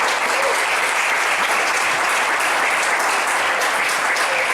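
Steady, loud applause fills a church as the congregation claps continuously and evenly, with no voices standing out.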